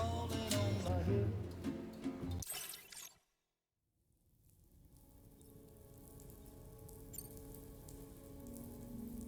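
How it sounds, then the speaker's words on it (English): Rain falling in the video game Death Stranding 2, a dense patter of drops that runs loud, cuts out into a brief silence, then returns as a softer steady shower. "Raindrops are falling on my head."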